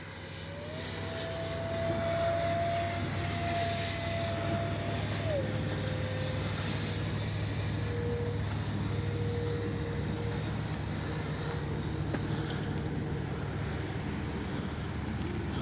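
A Freewing 70mm F9F Panther RC jet flies past at half throttle, its electric ducted-fan whine holding a steady pitch, then dropping and shifting as it passes, heard outdoors at moderate distance.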